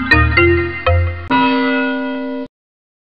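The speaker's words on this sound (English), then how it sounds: "Click the word bell." A synthesized bell from a children's PC word game rings several quick struck tones, then one longer sustained chime that stops abruptly, clean and loud with nothing else behind it.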